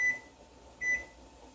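A kitchen timer gives two short, high electronic beeps about a second apart while it is being set, close by, over a low steady background hum.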